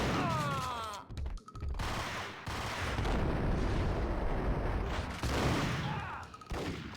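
Sustained gunfire from the video game Max Payne, dense bursts of shots rolling almost without pause for several seconds, loud and close, with brief gaps between volleys.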